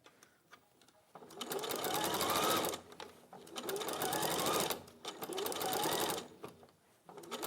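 A sewing machine stitches in three sustained loud bursts separated by brief pauses, used during a live sewing demonstration.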